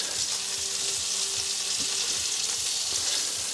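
Food sizzles and crackles steadily in a hot pan, a constant bright hiss with small pops, close by and uninterrupted.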